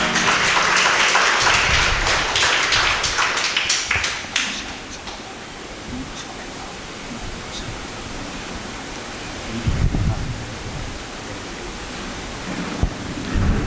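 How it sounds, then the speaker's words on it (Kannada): A church congregation at a prayer retreat claps together, a loud dense burst of hand clapping filling the first four seconds, then thinning into scattered claps and room noise. "ಚಪ್ಪಾಳೆ ತಡ್ತೀರ ಒಂದ್ಸರಿ."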